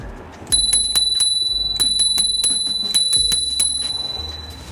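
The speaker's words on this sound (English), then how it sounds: "This also comes with a bell, and this is how the bell sounds." A bright bicycle-style bell on a 5TH Wheel V40 Pro electric scooter rings repeatedly in quick clusters of metallic dings, close and clear, with a steady hum underneath.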